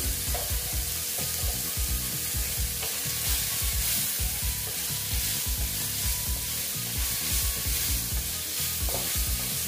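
Dal posto frying with salt and turmeric in a pan, a loud, dense sizzle with rhythmic stirring strokes scraping through it, close up and steady throughout, no voices.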